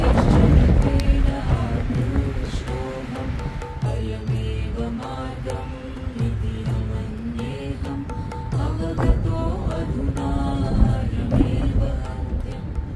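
Strong gusting wind buffets the microphone on an exposed mountain trail during a snowy trek toward Mani Mahesh Lake, a continuous loud roar with rushing swells and no voices.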